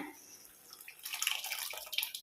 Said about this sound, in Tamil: இப்போ நான் வந்து வேக வச்ச பருப்பை ஆட் பண்ணுறேன்